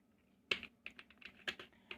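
Code being typed on a computer keyboard: a quick, close run of crisp keystrokes in an irregular rhythm, heard alone against a quiet background.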